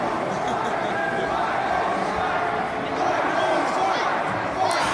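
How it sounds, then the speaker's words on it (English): Arena crowd at a 2016 Intercontinental title wrestling match between Owens, Zayn and Ambrose, a steady dense roar of cheering that runs under continuous commentator talk. "You hear the crowd"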